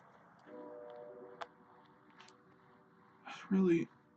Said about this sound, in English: Really, Tavon, what is up with this ominous sound of this freaking train going past, man? Like, is it the subway?